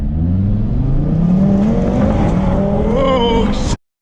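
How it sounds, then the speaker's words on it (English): Audi RS3 engine revving hard, with the loud, close tone climbing steadily in pitch as it accelerates before cutting off abruptly. "So here we are in the RS3. Let's fire it up."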